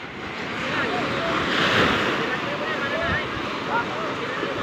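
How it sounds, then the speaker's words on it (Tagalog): Ocean surf washing steadily near a small boat at sea, a continuous broad rush of waves mixed with wind noise on the microphone, with faint voices in the background. "Yung alon."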